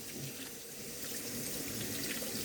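Warm water pours steadily from a kitchen tap onto a cutting board, a continuous broadband splashing rush at close range with no talking.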